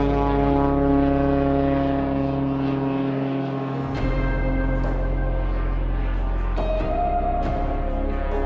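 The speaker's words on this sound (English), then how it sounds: "there's lots of water plane activity taking people to and from adventures" A seaplane's propeller engine drones loudly and steadily over a coastal island town, a constant low roar with no voices.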